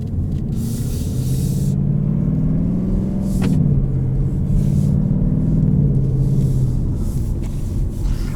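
A 2020 Ford Mustang GT automatic in sport mode drives off with a steady, loud engine rumble heard from inside the cabin, its pitch climbing and easing as it moves.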